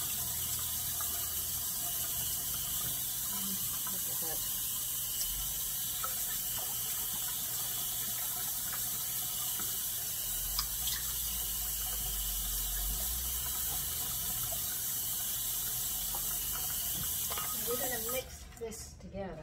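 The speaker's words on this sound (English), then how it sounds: "Into that, we are now going to add 1 cup of cold water." Cold water runs from a kitchen tap as a cup is filled for homemade granola, a steady close hiss lasting most of the stretch with brief talk over it.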